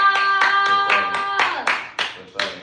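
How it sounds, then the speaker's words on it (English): An audience welcomes a podcast guest with a run of sharp, distinct claps in a steady beat that loosens toward the end, over a sustained tonal background. "Everybody give a big round of applause, show a lot of love to Big Jock!"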